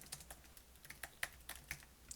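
Rapid computer keyboard typing while writing code for a Sokoban game: a close, uneven run of sharp plastic key clicks and taps with small pauses between bursts, no voices.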